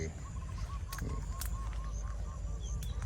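Free-range chickens roam a garden planted with bamboo shoots on a mixed farm, giving a steady series of short, moderately loud clucking calls over continuous outdoor background noise.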